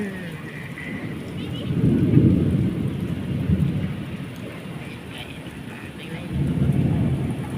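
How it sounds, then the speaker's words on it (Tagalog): Steady rain pattering on a surface in Qatar, the season's first rain, with low rumbling thunder swelling twice, no voices. "Pinatikim mo kami ng ulan. First time na ulan."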